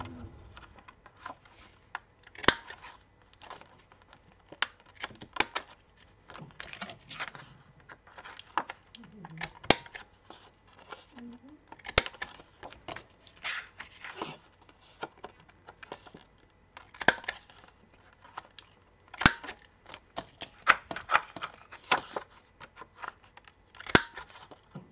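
Scissors round off the corners of paper for decoration, giving sharp, close snips in irregular clusters, with soft talking in the background.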